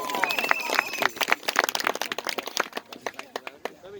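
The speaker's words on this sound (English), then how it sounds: "So please give a warm applause for Paul." An outdoor crowd at a freedom march claps for the next speaker, giving sparse, scattered claps and sharp cracks that thin out, with a voice heard early on.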